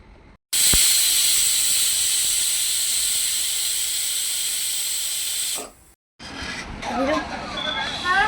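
Pressure cooker whistling on the stove while cooking khichdi: a loud, sustained, piercing steam whistle lasting several seconds, then cutting off into quieter hissing and kitchen sounds.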